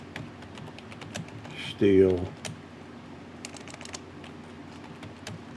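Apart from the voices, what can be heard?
typing on a computer keyboard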